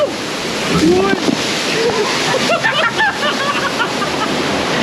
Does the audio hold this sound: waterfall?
yes